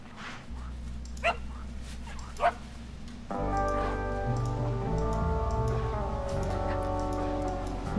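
A badger barks in the video game Shelter, with short yips and barks sounding over a steady game music soundtrack, moderately loud and repeated a few times.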